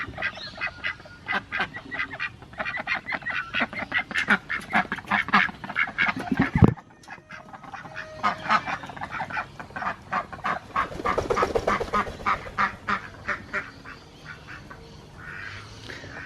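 Ducks kept in a converted dog kennel quack repeatedly in rapid, overlapping bursts, close and loud, with a short lull midway before the chatter resumes.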